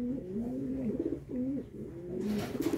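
Racing pigeons in a loft, with hens pairing up and laying eggs, give soft repeated throaty coos in close succession, near and fairly quiet, with no talking.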